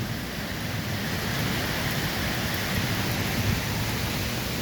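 Heavy rain pouring down as a storm rolls in, a dense, even hiss that holds steady throughout, close and fairly loud with no talking.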